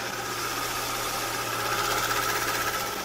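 A Hyundai Genesis BH330 with a 3.3 GDI engine idles with the hood open, recorded up close as a smooth, steady, even hum with a faint fine tick throughout and no talking.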